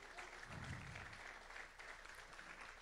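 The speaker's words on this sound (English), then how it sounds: "Let's give them a round of applause." Audience applause for student athletes at a fall National Letter of Intent signing event: steady, dense clapping from a crowd, fairly quiet and distant, filling the whole stretch without a break.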